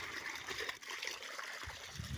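Water running through a farm field channel on a Gujarat farm, a soft steady trickle and gurgle heard close and quiet, no talking.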